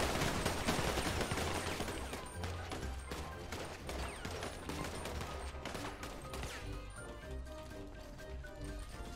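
Gunfire in a video game, a rapid burst of shots and crashing impacts across the whole stretch, thick and busy at first, then thinning to scattered bangs under faint voices.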